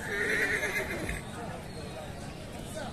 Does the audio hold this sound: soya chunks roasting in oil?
no